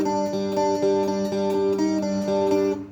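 A guitar plays a simple, repeating riff through an effects unit, with sustained, ringing notes picked in a steady rhythm and played twice in a row, alone and up close.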